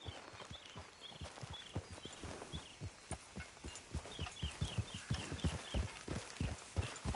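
Horse hooves clip-clopping in Red Dead Redemption 2, a steady walking rhythm of repeated thuds that grows a little louder and denser toward the end, heard alone without talk.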